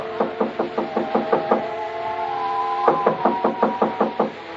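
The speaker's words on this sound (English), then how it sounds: "I had just put down the phone when someone knocked on the door." Knocking on a hotel room door in an old-time radio drama: two quick series of sharp raps, about eight each, separated by a short pause, close and clear over a steady sustained tone.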